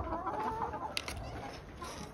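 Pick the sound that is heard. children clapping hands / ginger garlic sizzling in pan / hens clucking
hens clucking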